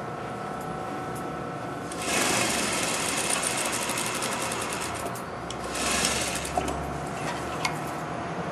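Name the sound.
sewing machine stitching a side seam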